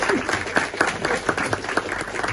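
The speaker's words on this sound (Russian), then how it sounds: "Давайте еще раз более бурными аплодисментами." Audience applause at a Russian panel discussion on VAT and complex manufacturing: dense, steady clapping from a room full of people, sustained throughout with scattered sharper claps standing out.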